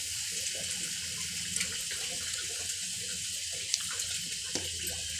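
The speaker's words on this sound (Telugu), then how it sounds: "ఇప్పుడు పప్పు ఆమె నీళ్ళు వేసింది పప్పుచారు కోసం" Water is poured steadily from a vessel into dal in a home kitchen for dal soup, a continuous running splash with a few small clinks over it.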